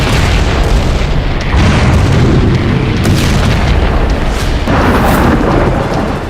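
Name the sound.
explosions from bombing in the West Bank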